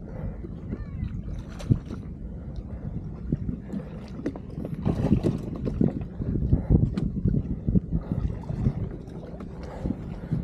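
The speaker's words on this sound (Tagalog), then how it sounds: "5 HP yung makina namin. Inflatable yung boat." A small 5 HP outboard motor on an inflatable boat drones steadily on the water, with wind buffeting the microphone and splashing and gurgling around the hull.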